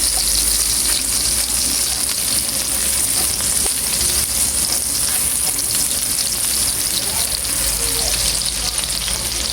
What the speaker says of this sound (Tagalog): Gisa lang po natin ng mabuti yung ating bawang at sibuyas.